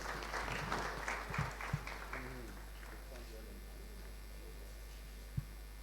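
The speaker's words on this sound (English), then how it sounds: "Please make him welcome with a round of applause." A pitch-competition audience claps to welcome a contestant, Wisdom Bwedu, a fairly faint spatter of applause over a steady electrical hum, fading out as a few isolated sounds follow.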